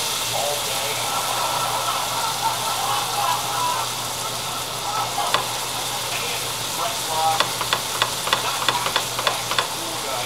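Flour being stirred into cream corn in a pot over a steady hiss of cooking, with faint scraping strokes that quicken toward the end and a voice talking.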